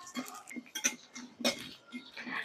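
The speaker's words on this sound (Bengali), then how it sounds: "এবার সবকিছু খুব ভালো করে ভেজে নিচ্ছি।" Cumin, coriander, pepper and fennel seeds being dry-roasted in a pan, giving light scraping and clinking of a spoon against metal in irregular bursts, close and fairly quiet.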